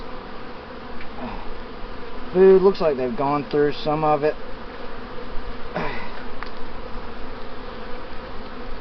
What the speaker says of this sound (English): A heavy frame of bees.